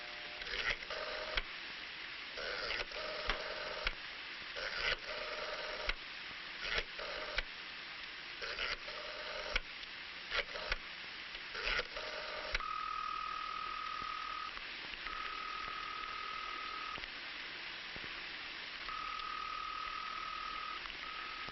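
A 1960s telephone is dialed to call a friend: a series of clicking dial pulses and tones in quick bursts with short pauses, followed by a steady repeating ringback tone heard through the line, with faint background hiss.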